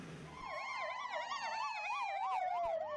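An ambulance siren wails continuously in Gaza after a strike on a UN school in Beit Hanun, its rising and falling tone loud and fairly near over faint street noise.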